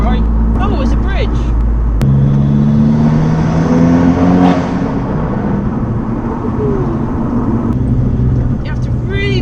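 Modified Abarth with a loud aftermarket exhaust driving under a bridge, engine revving hard with crackling pops and bangs echoing, heard close and loud while someone talks over it.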